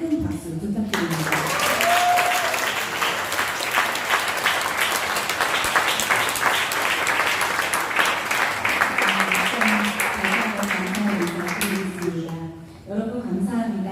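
Loud, sustained applause from a church congregation fills the room during a presentation ceremony, dense clapping running steadily for about ten seconds before fading, with a brief spoken voice at the start.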